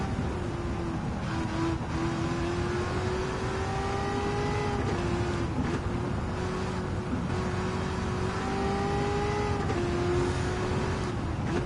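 Racing car engines in Gran Turismo 7 during an American Clubman Cup race, a steady high-pitched engine drone that rises and falls with gear shifts and throttle, continuous and close, with no talking.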